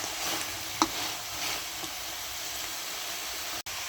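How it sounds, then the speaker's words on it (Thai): Holy basil and oyster mushrooms stir-fry in a pan, a steady hissing sizzle throughout with faint scraping stirs and a small clink near the start. "เราจะเอากะเพราลงเลยนี่ แล้วก็ผัดผัดไปนะจ๊ะ"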